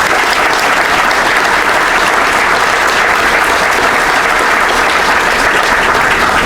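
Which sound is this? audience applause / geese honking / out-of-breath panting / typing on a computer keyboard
audience applause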